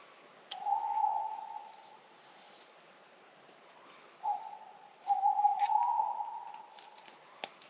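Low, hollow hoots sound in three drawn-out calls separated by quiet pauses, with faint chirps in the background.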